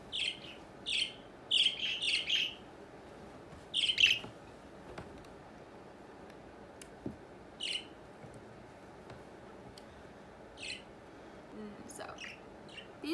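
Pet parrot calling indoors in short bright chirps and squawks, clustered early then scattered sparsely, moderately loud against a quiet room.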